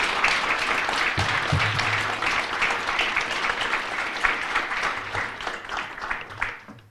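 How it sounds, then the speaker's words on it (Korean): Crowd at a political endorsement event for a presidential candidate gives warm, sustained applause for several seconds, dense clapping that slowly thins before cutting off. "다시 한번 뜨거운 박수 부탁드립니다"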